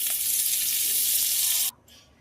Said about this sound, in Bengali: আবারও বাটার দিয়ে দিলাম।